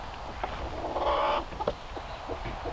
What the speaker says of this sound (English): I have two broody hens.